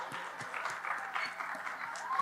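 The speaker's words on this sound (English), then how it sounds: "Let's give a big round of applause for our first 3 groups." Audience applause for the first three groups of eighth-grade students at a school chapel gathering, a steady patter of clapping hands that holds throughout without any spoken words.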